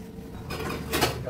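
A metal lid is set onto a cooking pot topped with coriander leaves, giving a short clatter and clink against the rim, close and fairly loud.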